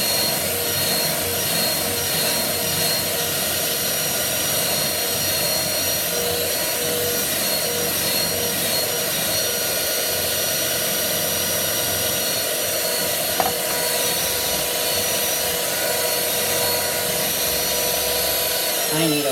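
A Hamilton Beach 62648 stand mixer whips marshmallow fluff in a bowl, giving a steady, loud, continuous motor whir with a faint scraping hum that holds level throughout, with no pauses.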